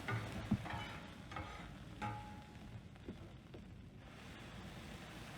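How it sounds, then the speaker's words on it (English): Teriyaki chicken sizzles on a hot flat top griddle, a steady frying hiss with scattered pops and scraping stirs, heard up close with no talking. "Sizzle and smoke time."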